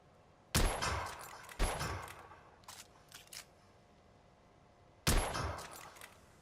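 Gunfire from a firearm in The Order: 1886, with three sharp, loud shots spaced about a second or more apart and a few quieter clicks and clacks between them.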